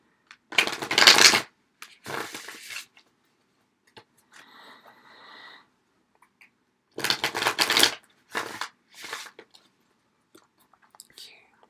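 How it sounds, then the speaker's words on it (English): Tarot cards are riffled and shuffled in short, close, crisp bursts during a quiet relaxation reading, with soft whispery pauses between the shuffles. "So we're shuffling the cards here."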